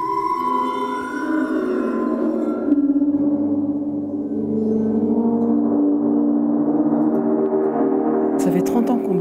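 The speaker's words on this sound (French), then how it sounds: "un cristal des frères Bachet, concepteurs de sculptures sonores" A Cristal Baschet, the glass-rod sound sculpture by the Baschet brothers, sustains shimmering, eerie tones that slide and swell in pitch, played steadily and fairly close without accompaniment.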